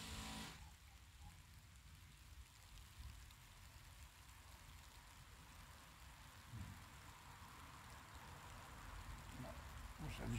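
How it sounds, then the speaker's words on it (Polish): Steady rain falls on a rural village, a dense even hiss with a low rumble underneath that holds for the whole stretch, with no clear speech on top. "deszcz pada"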